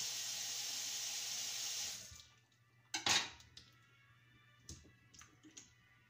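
Water runs steadily from a kitchen sink tap as food is washed, a loud continuous gush for about two seconds that then stops, followed by a few close clinks and knocks of handling in the basin.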